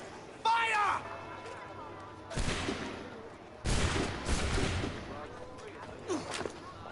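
Musket volleys in Assassin's Creed III, two loud bursts of massed gunfire a second or so apart, followed by a smaller shot, with a voice shouting just before and game sounds in between.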